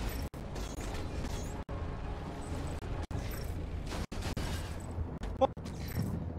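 Gunfire and explosions in the video game Archangel form a continuous rumbling barrage with sharp booms and mechanical clanks, heard at moderate level with a few sudden drops and a faint voice underneath.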